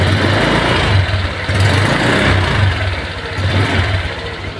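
A 2023 Honda Vario 125 scooter engine being throttled, giving a loud, close, continuous low drone that swells and eases slightly with the throttle.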